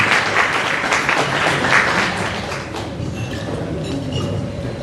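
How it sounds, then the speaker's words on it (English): Audience applause for a president taking the stage to give an address at an evening members' meeting, a loud, dense, steady clapping that fills the room and tapers slightly toward the end. "Please give him a big round of applause."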